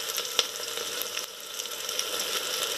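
Onions sautéing in a pan for a ridge gourd kadaisal give a steady, close crackling sizzle with a few sharper pops near the start, continuous throughout with no talking.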